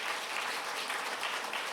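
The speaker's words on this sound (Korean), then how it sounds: "여러분 박수로 보내주시길 바랍니다" A church congregation applauds at a New Year's Eve service, a steady wash of many hands clapping throughout at moderate level, with no speech over it.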